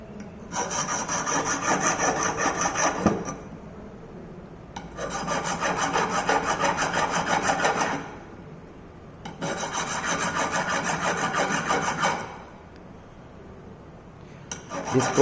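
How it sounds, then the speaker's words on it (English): Hand file rasping burrs off metal edges during a fitting job, heard as three long bursts of steady scraping strokes separated by short pauses, close and fairly loud with no talk. "here we are making the filing"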